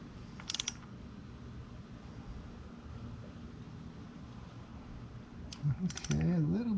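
A ratchet socket wrench snugs down a car's oil drain plug during an oil change: two short bursts of quick clicking, one early and one near the end, with quiet workshop background between.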